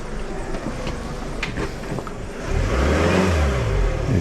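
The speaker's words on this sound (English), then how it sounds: "That is how you navigate these streets in a Citroen Picasso" A Citroen Picasso car squeezes through narrow village streets, its engine rising to a louder, steady revving hum midway through over a background of rumbling road noise.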